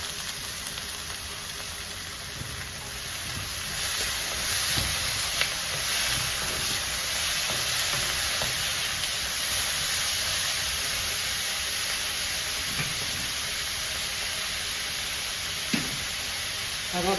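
Tomatoes with ginger and garlic sizzling in a pan for chicken gravy, a continuous hissing fry with occasional soft stirring clatter, close and steady for the whole stretch, with no speech.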